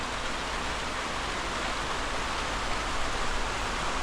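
Heavy rain pours down over a Konkan village in a dense, continuous hiss that stays close and loud, unbroken by any voices.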